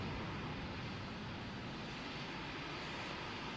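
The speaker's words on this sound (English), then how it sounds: "Singapore A330, wonderful taxiing." An Airbus A330 airliner taxiing in the PTFS video game gives a steady, continuous jet engine roar that stays even and loud throughout, with no talk over it.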